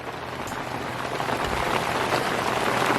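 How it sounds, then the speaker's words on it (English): Steady rain falls on a spring vegetable garden, a dense close hiss of drops that slowly grows a little heavier across the moment, with no voices. "it's raining harder, you can hear"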